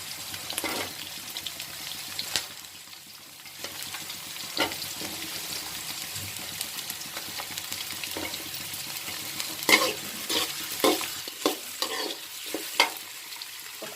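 Bell pepper being stir-fried in a pan for gobi fried rice, a continuous sizzle with repeated scraping stirs and clatters growing busier toward the end.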